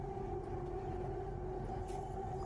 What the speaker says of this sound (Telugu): మెట్రో స్టార్ట్ అయింది, వెళ్తుంది.